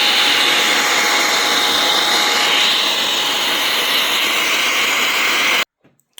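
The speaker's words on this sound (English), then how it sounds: "I cheated a bit and used a hairdryer, especially around these clips" A hairdryer blows the last water droplets off a Newtonian telescope's primary mirror, a loud steady close-up whooshing roar that runs without a break before cutting off abruptly near the end.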